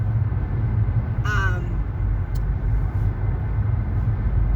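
A car drives along with a steady low road rumble and engine hum throughout, and a brief bird call rises faintly over the noise partway through.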